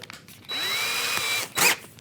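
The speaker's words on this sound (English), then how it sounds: "I just take the bit that I want to drill the hole with, which is a 3 millimeter bit" A power drill bores a 3 mm hole in wood with a steady whine lasting over a second, followed by a short louder burst, close and alone.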